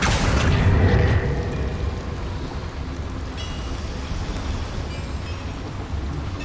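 A Confringo blasting spell explodes in Hogwarts Legacy, a loud booming blast up front that rolls into a long rumbling decay, alone with no voices.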